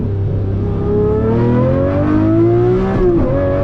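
A Lamborghini Murcielago SV engine howls loud and close from inside the car, its pitch sweeping upward, then dropping sharply through a quick downshift with a brief blip before climbing again.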